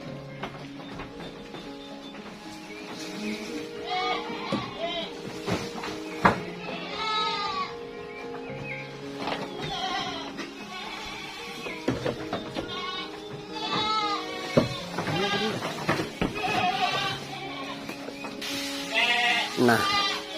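Goats on a farm in East Lampung bleat repeatedly, near and wavering, their cries rising over someone talking steadily throughout.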